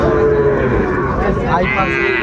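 A Sahiwal-breed bull calf at the Ambari livestock market in Dinajpur gives a low, drawn-out moo that fills the whole moment. Crowd noise murmurs underneath.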